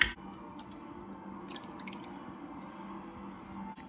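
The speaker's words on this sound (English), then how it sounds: "We're gonna add 1 cup of broth, 1/2 cup of olive oil," Broth and olive oil pour into an Instant Pot as a soft, steady liquid trickle with faint drips, quiet and close, with no talking.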